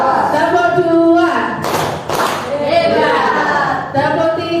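A group of pupils in a classroom claps a short rhythmic pattern as a positive-culture exercise, a burst of several quick claps in the middle, with a teacher's voice talking before and after.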